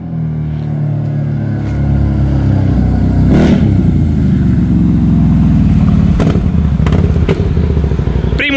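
A CFMOTO X10 motorcycle with a custom exhaust idles then revs loudly up close, a deep rumbling exhaust with sharp popping bursts toward the end.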